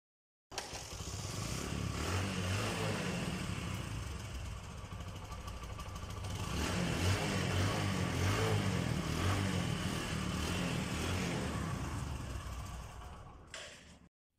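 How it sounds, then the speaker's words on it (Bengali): A Bajaj Discover 125cc motorcycle engine runs steadily near the listener for about thirteen seconds, with a brief rev-up midway and no voices over it. "আমি আপনাদেরকে বাইকের সাউন্ডটাও শুনে দিলাম"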